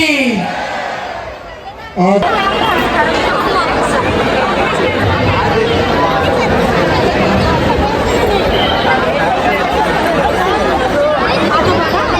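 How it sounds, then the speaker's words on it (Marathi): A dense festival crowd on Gudi Padwa babbles loudly and continuously nearby, a thick wall of overlapping voices with occasional shouts, after a brief quieter moment at the start. "जाम गर्दी."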